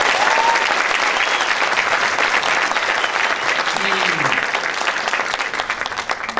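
Applause from a large audience at the CONAPROC 2021 event, dense sustained clapping that stays loud throughout and thins slightly toward the end.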